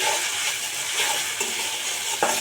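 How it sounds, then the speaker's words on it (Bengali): Garlic and onion fry in hot oil with ginger paste, giving a steady close sizzle with light stirring scrapes and a soft clink of utensil on pan near the end. "এবার আমি রসুন আর পেঁয়াজটা আরেকটু ফ্রাই করে নেব।"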